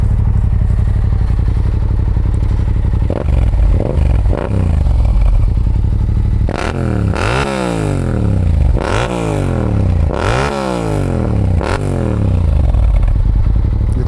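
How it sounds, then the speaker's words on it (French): Yamaha R7 2023 motorcycle with its CP2 parallel-twin engine, revved hard several times in a row from a steady idle, each blip rising and falling sharply with crackling deceleration, loud and close with no talking. "je vais vous faire écouter le bruit en vite fait"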